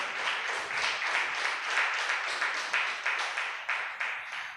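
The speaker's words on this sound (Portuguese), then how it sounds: "Dê um aplauso ao Senhor." A church congregation claps in unison, a steady rhythmic beat of many hands close by filling the room, with faint voices mixed in beneath.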